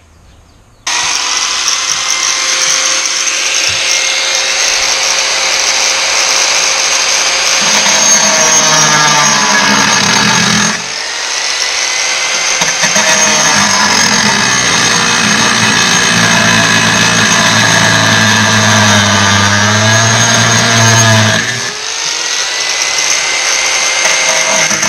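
A loud angle grinder cuts metal, a window guard grille on a Volkswagen Saveiro Cross, whining continuously with a harsh, high-pitched rasp, briefly dropping off twice before spinning up again; no talking.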